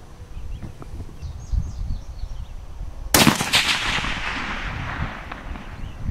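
A single sharp rifle shot, from a 7mm or .308 Savage, cracks loudly outdoors and rings out with a long rolling echo, preceded by quiet ambient noise and faint bird chirps.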